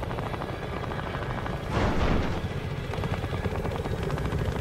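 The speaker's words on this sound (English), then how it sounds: "Inbound transport helicopter." A transport helicopter arrives in a video game, its rotor thumping as a steady rumbling drone that swells briefly in the middle, heard alone without talk.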